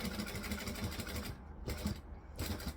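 Sewing machine back stitching along a fabric edge of a tea towel topper, a close continuous mechanical whir that stops briefly twice before starting again.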